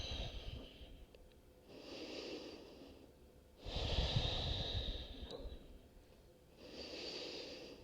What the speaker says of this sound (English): let's stay here for 3 breaths